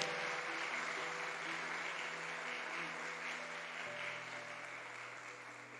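Quiet, distant applause from a church congregation rises as a soft steady wash of clapping, with sustained organ or keyboard tones underneath.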